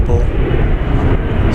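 A passenger airplane, an American Eagle regional flight bound for Kansas City, roars steadily and loudly at DFW Airport, a broad continuous engine rumble filling the whole moment with a voice talking over it.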